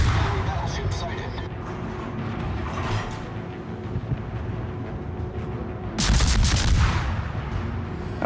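Naval gunfire in World of Warships: rumbling shots and booms through most of the stretch, with a louder burst of fire late on, and a voice talking over it.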